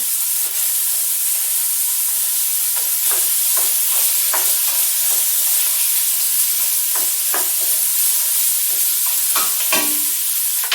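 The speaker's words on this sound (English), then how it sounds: "So I'm going to add my frozen green beans in" Frozen green beans go into a soup pot and are stirred, giving a steady hiss of sizzling and steam with scattered scraping stir strokes and clinks throughout, close and continuous with no talk.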